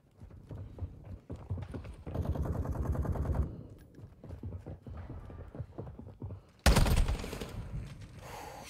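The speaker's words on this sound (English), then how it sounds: "Taking effective fire." Gunfire in the Call of Duty video game, bursts of shots and a sharp loud blast near the end, mixed with other game sounds and clattering effects.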